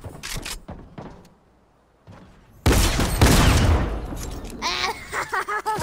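Drum gun firing in a video game, a loud rapid burst of shots following a few scattered shots and a brief lull, with mechanical game noises after.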